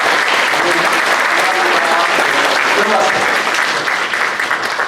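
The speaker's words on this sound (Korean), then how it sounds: "박수로 감사합니다." Congregation at a Korean church service applauding steadily, a dense wash of clapping sustained throughout with faint voices mixed in.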